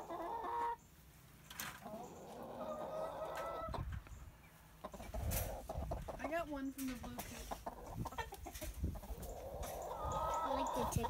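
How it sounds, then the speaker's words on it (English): Chickens cluck on a residential farm among close voices, their calls rising between stretches of conversation. "I like the chickens."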